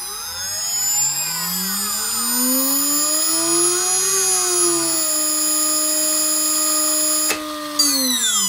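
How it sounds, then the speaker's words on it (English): A CNC spindle motor driven by a VFD spins up and holds a steady whine with rising and falling tonal sweeps, then dips briefly near the end before running again, close and alone with no talk. "I'm now going to check if the spindle can turn on"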